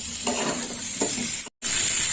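Vegetables such as potato, pointed gourd and pumpkin with bori are stirred in a hot pan, giving a steady sizzle with scraping strokes of the spatula and a brief cut to silence near the end.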